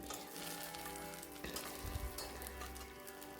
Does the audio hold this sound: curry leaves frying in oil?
yes